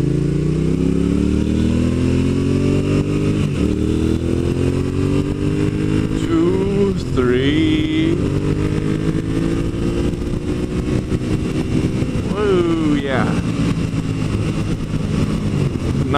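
A six-gear motorcycle accelerates with a loud, close engine roar. The pitch climbs steadily and dips briefly at gear changes, with wind noise throughout.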